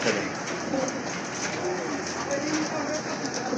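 Pigeons kept for sale coo in low, soft, repeated calls beneath a steady hiss of background noise, while someone talks nearby.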